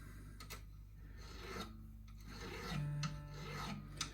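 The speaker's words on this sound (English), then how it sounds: "I'm just very lightly rolling this fret file around these edge corners" A fret file rasps lightly along guitar fret edges and end corners in short, soft, scratchy strokes, quiet and close with faint background hum.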